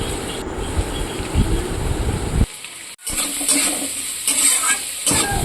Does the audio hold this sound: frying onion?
yes